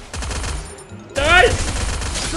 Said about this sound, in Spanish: Te está disparando, ¿no?